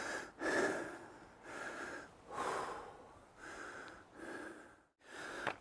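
Heavy, rhythmic breathing of a hiker starting up a steep mountain in the southern Mournes, roughly five or six loud, close breaths with snort-like exhales and no talking.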